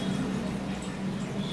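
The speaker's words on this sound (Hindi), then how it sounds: "पानी डाल देंगे," Water is poured into sugar to make syrup for maida jalebi, giving a steady, close liquid rush with no voices.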